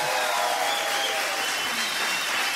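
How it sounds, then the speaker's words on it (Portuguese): Steady, dense audience applause at a live comedy show recording, continuous and loud throughout with no talking. "sempre foi o nosso sonho gravar um DVD para termos palmas como estas"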